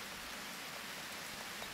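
Steady rain in the Harvest Moon farming game, an even, hissing patter with no breaks, soft and continuous.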